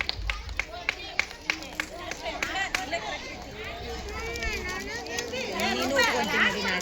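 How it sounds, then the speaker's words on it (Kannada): Scattered sharp handclaps from an audience at a village goddess temple fair dance program in Malapur, Dharwad, giving way to steady crowd chatter and background sound. "ಅವರಿಗೆ ಜೋರಾದ ಚಪ್ಪಾಳೆ"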